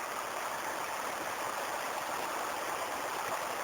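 Belichka river flows steadily at its mouth, a constant close rushing stream with even hiss and gurgle, no breaks and no voices.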